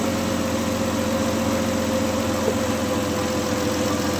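A 2016 Dodge Grand Caravan with a suspected transmission fault runs at a constant idle, giving a loud, close engine drone with a steady hum and faint knocking texture throughout.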